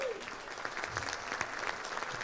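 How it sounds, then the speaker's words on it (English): Audience at an evening art fundraiser auction breaking into applause, a sustained burst of clapping with a faint crowd murmur and a voice briefly audible underneath. "Give yourselves a round of applause."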